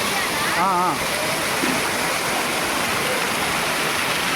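A waterfall at a hillside goddess temple rushes in a steady, broad roar that fills the whole clip, with a brief voice-like warble near the start.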